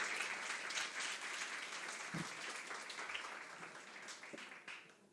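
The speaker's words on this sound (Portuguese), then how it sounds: "E dê um aplauso bem forte a Ele." Congregation at a Portuguese-language celebration service claps together in a steady, fairly distant round of applause, with a couple of brief knocks and a voice or two in the room.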